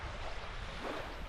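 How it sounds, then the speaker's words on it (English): Surf of waves breaking on the shore of a cold, sandy beach, a steady broadband wash with rolling swells and light wind noise, heard alone without talk. "listening to the birds and the waves breaking on the shore"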